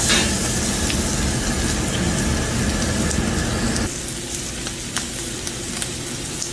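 Chopped tomatoes hitting a hot pan on high flame, a loud dense sizzle and crackle throughout that eases slightly partway as the frying settles, with faint stirring taps.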